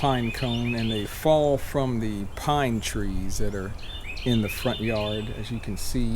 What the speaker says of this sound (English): as you can listen to the birds chirping